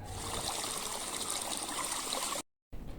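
River water flowing steadily with a soft trickling rush, faint and continuous, cut by a brief silent gap before resuming.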